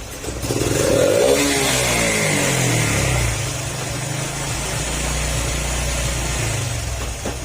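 A motorcycle engine with a freshly cleaned throttle body revs up sharply and then falls back to a rough, steady idle, loud and close, with no talking.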